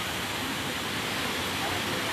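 Steady broadband rush of the Tompotika waterfall in Ussu, East Luwu, falling in tiers, a continuous even roar that fills the whole short stretch without breaks.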